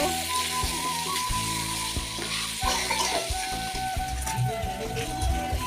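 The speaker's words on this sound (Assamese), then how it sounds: "মাংস ভাজি আছো।" Close, continuous sizzling of pork frying in a pan, with occasional scraping and clinking of stirring over the steady crackle.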